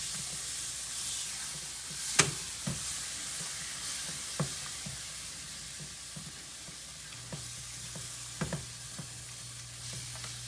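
Tomatoes and flour gravy sizzle steadily in a skillet, a soft, even hiss broken by occasional sharp clicks and taps of a utensil, quiet and close with no talk.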